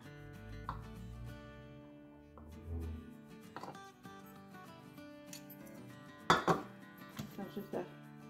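A knife cuts through a quiche-style pastry base made for an air fryer, with clicks and scraping against a pan or dish, including one sharp cluster of taps, over a low steady hum.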